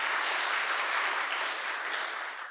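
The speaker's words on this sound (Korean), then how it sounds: "박수 한번 주십시오." Applause from a church congregation at an anniversary ordination service, a steady, dense wash of many hands clapping that holds evenly for a few seconds and then begins to fade.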